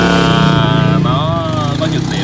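A Stihl BR700 backpack blower with a 4-MIX engine runs loud and steady close by, its constant roar continuing while someone talks over it.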